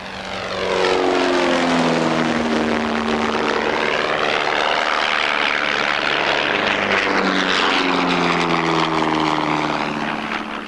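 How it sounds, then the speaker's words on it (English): Pitts aerobatic biplanes making a last fly past over a packed coastline, a loud propeller-engine drone that swells and shifts pitch as they pass, with no talk. "the genuine Pitts make a last fly past and wave to a packed coastline"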